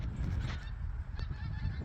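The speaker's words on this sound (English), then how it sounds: "Here's some geese" Geese honking right overhead outdoors, several loud calls over steady low rumble of wind or ambient noise.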